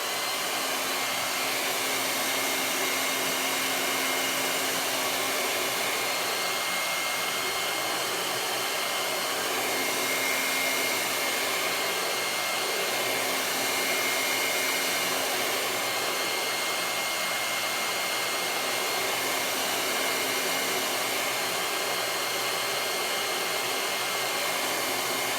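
A hair dryer runs steadily and uninterrupted at close range, drying a wet transfer on a decorated Christmas box with a constant airy whoosh and motor hum throughout.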